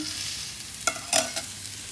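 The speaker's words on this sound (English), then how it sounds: "This is the magic of the sizzle." Chinese sizzler food hisses and sizzles steadily on a hot plate, with a few sharp scraping stirs and clinks cutting through the crackle.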